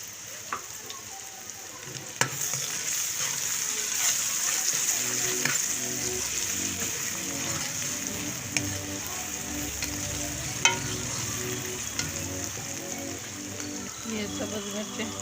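Loud continuous sizzling of garlic ginger paste frying in oil with onion, with occasional stirring clicks and scrapes throughout, close up and without talk.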